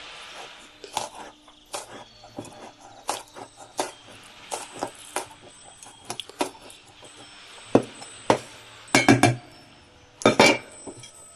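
A knife cuts peeled garlic cloves on a board, giving sharp, irregular chopping taps close by. They start light and sparse, then grow louder and quicker toward the end.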